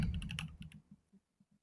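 A quick burst of keystrokes on a computer keyboard typing a short command, fairly quiet and close, then a few slower, separate taps trailing off into silence.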